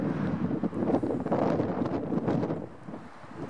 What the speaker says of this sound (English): Wow, it is windy.